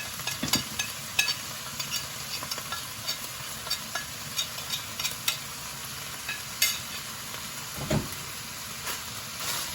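Chicken filling with chili flakes, salt, and black and white pepper is stirred in a pan over a low sizzle, with repeated scraping strokes and soft clacks of a spoon, nearby and without talk.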